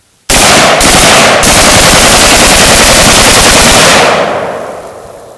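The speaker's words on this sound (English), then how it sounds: "And you can see as I'm walking, I'm going to be bump firing." An AKS-74U rifle bump-fired while the shooter walks, one loud sustained burst of rapid automatic fire with two brief gaps early on, close and harsh, ending in a fading outdoor echo.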